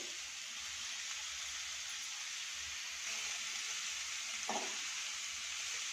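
Capsicum and shredded cabbage being stirred together in a pan for veg momos, a steady soft sizzle with faint scraping and a brief louder stir near the end, no voices.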